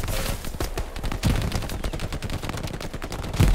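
Machine gun fire rattles in Hell Let Loose, a dense continuous burst of rapid loud shots lasting the whole stretch with a heavier boom near the end, no talking over it.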